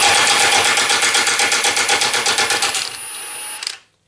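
A Milwaukee M18 FUEL 2763-22 high-torque impact wrench removing a bolt, hammering loudly and close in a rapid burst of evenly spaced impacts before spinning down and falling silent.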